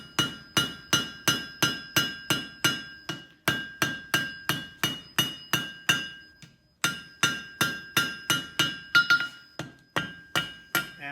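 Regular, ringing hammer blows on hot steel as a blacksmith forges a chamfer along the edges of a bottle opener. Dozens of sharp strikes come in steady bursts with bright metallic ring and a brief pause midway.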